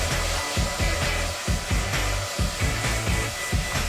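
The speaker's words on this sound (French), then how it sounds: "utilisons le sèche-cheveux" A hair dryer blows in steady bursts while being used to curl hair, loud and close, with its airflow pulsing rhythmically throughout.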